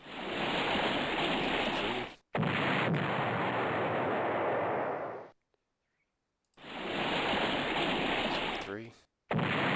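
Artillery shelling in the strategy game Allied General comes as loud, sustained rumbling roars in long bursts, cut by sudden silent gaps and a final abrupt restart.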